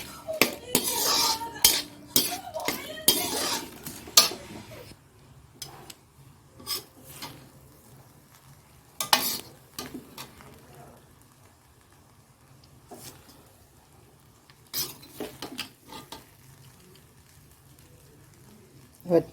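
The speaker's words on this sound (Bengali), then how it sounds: "কাজুটা একটু নাড়াচাড়া দেব" Cashews are stirred in a pan with a metal utensil, giving irregular bursts of scraping and clinking, close and fairly loud at first, then sparser with quiet gaps and no talk.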